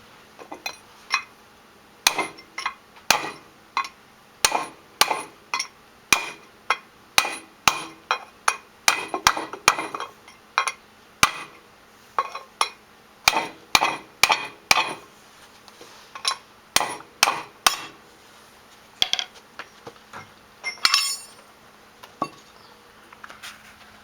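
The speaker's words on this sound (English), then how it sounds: "just take a big chisel and start hammering it, go evenly all the way around and just keep going around until it pops off" A chisel is hammered around a worn starter ring gear to drive it off, giving sharp repeated metallic strikes in a steady, slightly irregular rhythm, loud and close, with brief pauses between bursts.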